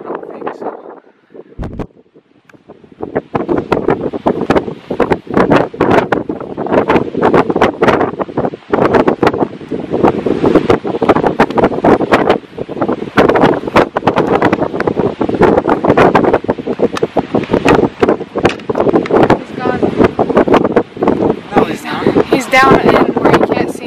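Gusty wind blows steadily across an open hunting field, roaring into the microphone with rustling noise throughout, while people speak quietly beneath it.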